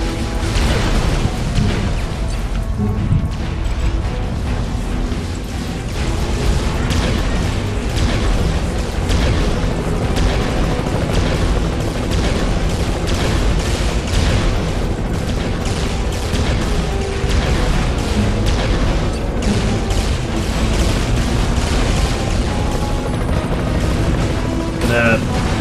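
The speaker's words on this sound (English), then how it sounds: "It's how the explosions fill my entire screen" Loud, dense game explosions from an Iron Man video game fill the scene with continuous booming blasts and crashes, layered with heavy action noise and talk throughout.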